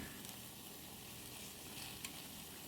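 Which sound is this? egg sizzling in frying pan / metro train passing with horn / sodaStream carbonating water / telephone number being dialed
egg sizzling in frying pan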